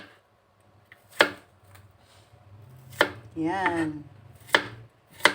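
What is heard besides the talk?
knife slicing chayote lengthwise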